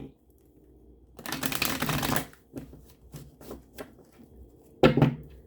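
Cards riffle in a quick, dense burst, followed by scattered soft taps and a second brief shuffle near the end, close by.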